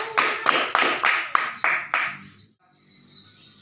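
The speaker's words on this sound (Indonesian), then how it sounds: "Kita beri aplaus kepada Ananda Hasrul." Classroom applause for a student during a microteaching lesson on classifying living things: a run of about six sharp, rhythmic clap bursts from a small group that fades out after two seconds into quiet room tone.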